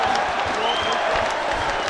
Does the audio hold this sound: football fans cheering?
yes